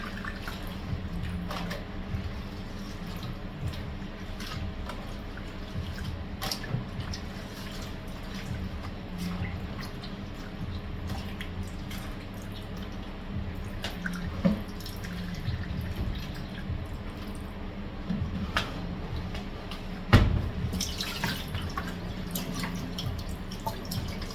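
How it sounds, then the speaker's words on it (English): Food being rinsed for stir-fried chicken and vegetables, with a steady trickle of tap water and soft splashes throughout, plus an occasional louder knock near the end. "give this another rinse and transfer it to another bowl"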